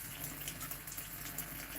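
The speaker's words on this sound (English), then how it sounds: "Have you seen the water flow now?" Steady, faint rush of water flowing through an eSpring water filter cartridge, a continuous hiss with no talking.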